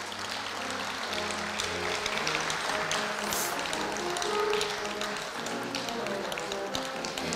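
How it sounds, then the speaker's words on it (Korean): An audience at Korea University's founding anniversary ceremony claps continuously, with a dense, steady patter of hands and a musical tone sustained underneath. "큰 박수 부탁드립니다."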